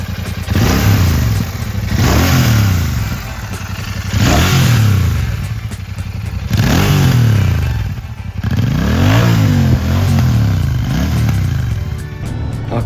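A Royal Enfield Shotgun 650 motorcycle engine revs repeatedly outdoors, rising and falling in loud, deep throaty bursts with a rumbling exhaust note between each rev, close by.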